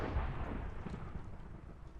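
Thunder rolls after a lightning strike in Minecraft, a steady low rumble that fills the clip with a heavier boom near the start, broad and moderately loud with no talking over it.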